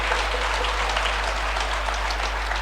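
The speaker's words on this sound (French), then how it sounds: "Applaudissez Lilia, elle a très bien lu." Congregation applauding at a Sunday church service, a steady dense wash of clapping over a low constant hum, continuous throughout with no talk.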